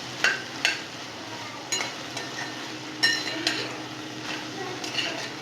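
Okra is stir-fried in a kadai with a steady sizzle. A spatula gives repeated metallic clinks and scrapes against the pan at an irregular rhythm, close and fairly quiet.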